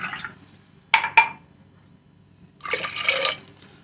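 Water from a glass is poured into a pressure cooker: a brief splash and a couple of sharp drips, then a longer, steady pour that gushes for under a second, close and fairly loud.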